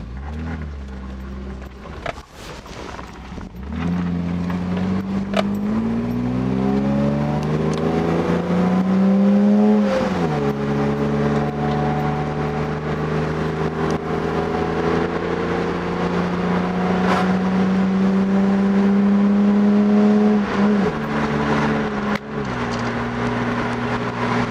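A BMW E30 driving on a mountain road, its engine droning close and steady with rising and falling revs through several gear changes and one sharp lift-off midway.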